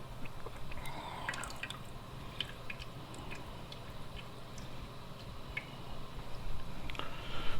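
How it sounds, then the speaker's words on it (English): Whey dripping from homemade butter in a tilted container, heard as scattered close, light drips and small ticks over a steady low hum. "turning the container to a different angle will let some of that whey come out"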